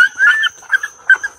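Soft, high whimpers and squeaks from an Airedale Terrier puppy come in short separate bursts, close by and fairly quiet, with no talking over them.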